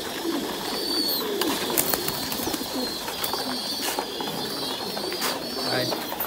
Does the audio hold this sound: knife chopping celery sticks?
no